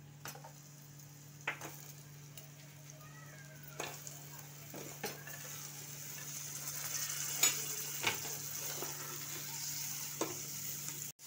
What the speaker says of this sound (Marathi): तर याच्यामध्ये ह्या कट केलेल्या स्वच्छ धुतलेल्या भाज्या घालूया।